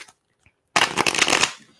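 Tarot cards are shuffled in a quick, dense riffle that lasts under a second, loud and close, after a brief near-silence with a couple of tiny taps.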